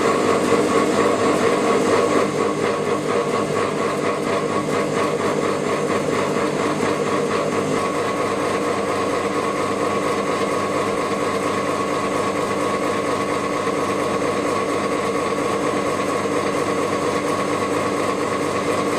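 A gear hobbing machine feeding its hob cutter into a gear blank produces a steady, loud mechanical drone with a dense buzzing texture, slightly heavier at the start and then constant throughout, with no talking.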